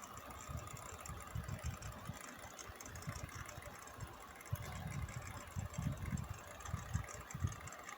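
A Mantua Pacific model locomotive's small electric motor runs at full throttle in a cradle, giving a steady, faint whirring hum with a low rattling buzz throughout, no talking.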